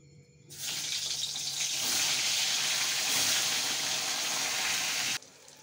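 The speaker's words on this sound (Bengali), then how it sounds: "পটলটা ভেজে নিই প্রথমেই।" Pointed gourd (potol) pieces sizzle in hot oil in a heated kadai, a loud, steady hiss that starts abruptly, holds for several seconds and then cuts off, with no talking.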